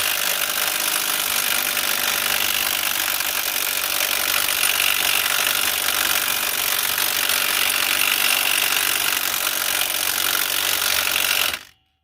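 An impact wrench on the axle nut of a Saturn Ion or Chevy Cobalt during a wheel hub replacement, one loud continuous buzzing run of about eleven seconds, close by, ending abruptly, with no talking.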